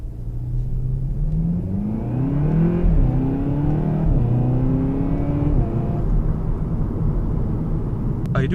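A Seat Leon Cupra 300 4Drive in Cupra mode, its engine revving through rising and falling pitch sweeps with a steady loud rumble, heard from inside the car without speech.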